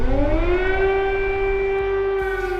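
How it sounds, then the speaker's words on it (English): An air raid siren wails over Kyiv, a steady, sustained civil-defense tone that holds loud and unbroken throughout, with no voices. "Air raid sirens have become a daily routine."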